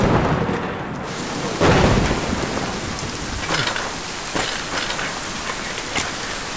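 Heavy rain pounds steadily on surfaces nearby while thunder rumbles and cracks through the downpour, loud and continuous with no voices.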